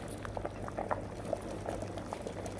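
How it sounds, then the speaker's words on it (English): A pot of Jamaican manish water soup made with ram goat and dumplings boils steadily, with quiet bubbling and scattered small pops over a low continuous simmer. "Some more pot bubble"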